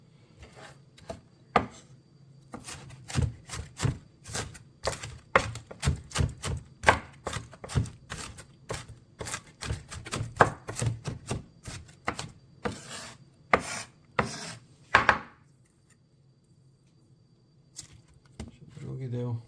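A knife chops through an onion on a board in a quick, uneven series of close, sharp taps that stop briefly before a few final cuts.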